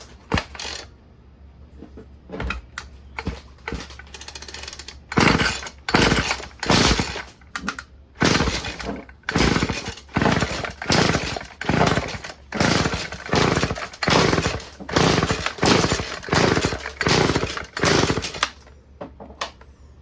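Stihl FS36 string trimmer with choke on, its small two-stroke engine yanked over again and again by the pull cord in a steady series of loud, close rasping bursts, coughing briefly without catching and settling into a run.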